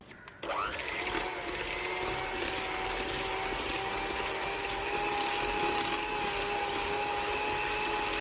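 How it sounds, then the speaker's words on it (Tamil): An electric beater whirs steadily as it mixes red velvet cake batter with sugar and vanilla essence, starting abruptly and keeping a constant close, loud motor drone with a faint rattling edge, and no talk. "இப்போ இதை வந்து நம்ம ஒரு எலக்ட்ரிக் பீட்டரை வச்சு மிக்ஸ் பண்ண போகிறோம்."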